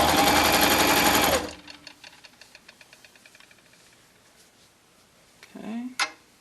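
A sewing machine stitches around a tank top neckline in a loud, fast run for about a second and a half and then stops. Faint ticks and handling noises follow, then a brief rising whir near the end.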